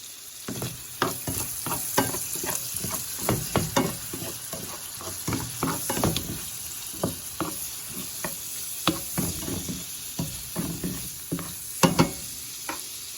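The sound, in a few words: shrimp frying in oil with garlic and butter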